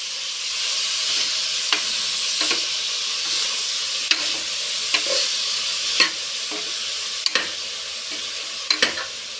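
Cabbage stir-fried in a pan gives a steady sizzle and hiss, with a spatula or ladle scraping and tapping against the pan now and then, close up and with no voices.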